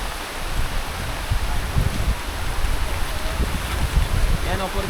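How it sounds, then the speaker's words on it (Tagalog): Typhoon wind and rain at sea off San Luis, Aurora, a continuous rushing roar with gusty low buffeting and splashing texture, loud and near, with talk in the background. "Dumating na yung bagyo."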